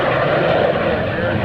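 At the 2001 NAES Lakehurst airshow, an aircraft flying low gives a loud, steady, close roar while a commentator talks over it.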